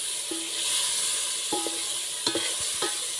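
Tomatoes go into a hot pan for dal and are stirred, a steady hiss of sizzling broken by several sharp scraping taps of the spoon against the pan.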